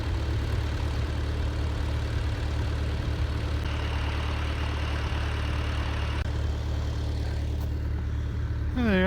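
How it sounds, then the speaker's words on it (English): A farm tractor idles steadily, a loud continuous low diesel rumble close by that holds level throughout, with no talking. "gotta take the tractor back to the house."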